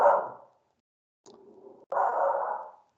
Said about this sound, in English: Sorry for my dog is barking in the background here.